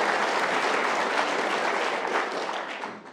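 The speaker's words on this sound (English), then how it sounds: "So the applause was to tell you that Ken has got to snookers required" Snooker audience applause in an arena during a seniors legends match, many hands clapping in a dense, continuous wash that holds loud and steady, then eases off slightly toward the end.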